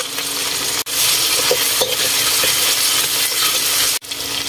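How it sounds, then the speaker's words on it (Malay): Coarsely pounded garlic and ginger paste sautéed in hot oil for Thai chicken soup, a loud, close, continuous sizzle with scraping stirs and brief pauses, no talk. "Tumis bahan tumbuk kasar. Tumis sehingga naik bau."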